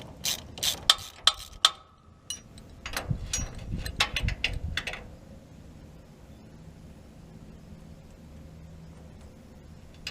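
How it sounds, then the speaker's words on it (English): A ratchet wrench clicks in quick bursts of sharp pawl ticks while working on farm planting equipment, followed by a few heavier metallic knocks, then quiet near the end. "I need a wrench and a ratchet."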